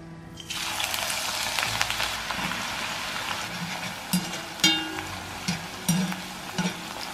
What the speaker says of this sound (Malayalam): ഈ സവാള എണ്ണയിലേക്കിട്ട് നമ്മൾ ഫ്രൈ ചെയ്തെടുക്കും.